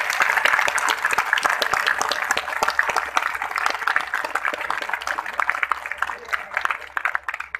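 Loud, steady applause from a crowd at the Latiya Mahotsav 2019 festival held by the Samrat Ashok Club, sustained clapping running throughout without a break.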